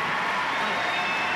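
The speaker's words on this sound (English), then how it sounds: "Give this man a round of applause," Audience applause for a guest called up on stage at a surprise event, a steady wash of many hands clapping with some crowd noise, moderately loud throughout with no pauses.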